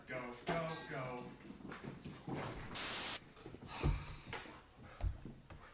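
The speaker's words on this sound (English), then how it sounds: "we are dog sitting a fucking like American pit bull, so the thing's like nuts" An American pit bull whimpers restlessly indoors, with whiny, wavering cries in the opening seconds and a few thuds and shuffles, heard under ongoing human talk.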